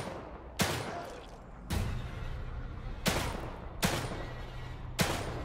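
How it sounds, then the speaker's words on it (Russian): Gunshots from a weapon fired at an enemy in the horror video game The Evil Within 2, five loud sharp blasts spaced about a second apart, each followed by a long booming decay. "давай я выстрелю по нему, что будет"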